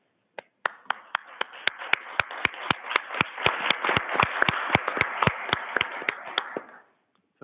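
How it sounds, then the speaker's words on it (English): A board meeting audience gives a round of applause. It starts with a few sharp separate claps, then fills into a steady run of hand claps that rings in the room for several seconds before stopping abruptly. "this is a time that we give them a round of applause."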